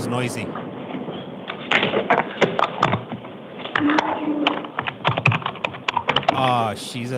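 Brisk typing on a computer keyboard in a hearing room of the Connecticut Board of Pardons and Paroles, uneven rapid key clacks, fairly close, running under people talking nearby.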